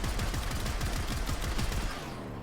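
Rapid automatic gunfire from the Komorex weapon in the video game Warframe, a loud, continuous rattling burst of shots fired in quick succession that holds steady for a couple of seconds before trailing off.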